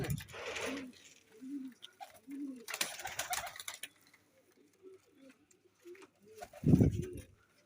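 Flying pigeons kept for sale coo softly at close range in a series of low, throaty calls, with faint rustling and a brief louder flutter near the end.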